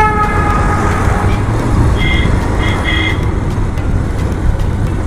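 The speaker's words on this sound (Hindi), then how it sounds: "पीछे में और है जिप्सी, हॉर्न पे हॉर्न दिए पड़े हैं" Vehicle horn toots sound twice in quick succession around the middle, set against a steady loud rumble of motorcycle engine and road noise on a ghat road near Pachmarhi.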